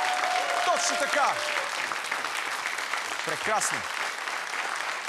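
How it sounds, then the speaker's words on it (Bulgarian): A Bulgarian TV talk-show studio audience applauds steadily throughout while the host speaks over it and a few short tonal sound effects ring out. "дами и господа, аплодисменти!"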